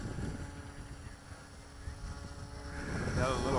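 Steady wind buffeting an outdoor microphone on a breezy day while a micro RC autogyro is flown, a continuous low rumble that swells louder toward the end, with a voice speaking faintly underneath.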